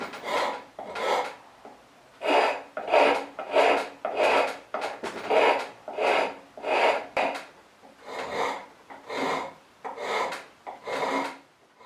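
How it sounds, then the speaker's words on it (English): A round file rasps rhythmically across metal knife-handle pins set in wood, about a dozen steady back-and-forth strokes with brief pauses, close and moderately loud. "The trick I'll use here is to take the pins down with a round file."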